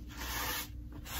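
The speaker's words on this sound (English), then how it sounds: "I have a wet paper towel. It's not wet, it's just damp, and I'm just wiping off the" A damp paper towel wipes dust off a freshly sanded surface in short, dry rubbing strokes, two or three quick back-and-forth swipes heard up close with no talking.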